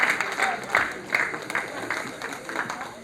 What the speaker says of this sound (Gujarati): હરિભાઈને જોરદાર તાળીઓથી વધાવીએ.